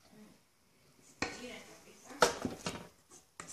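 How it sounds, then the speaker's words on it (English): A spatula scraping and knocking around a bowl while mixing red velvet cupcake batter, quiet and close, with a few sharper clacks against the bowl between soft stirring strokes. "we're going to continue incorporating everything with our spatula"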